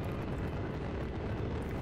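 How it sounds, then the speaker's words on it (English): A crashed cargo plane burning on a mountainside in Just Cause 3: a faint, steady roaring rush of fire, brief and continuous without distinct bursts. "This whole thing is on fire."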